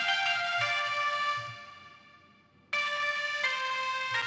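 A synth counter melody from the Anna 2 preset called Broken Toys sustains bright, tonal notes in a Christmas beat, fading out briefly before returning at full level for the rest.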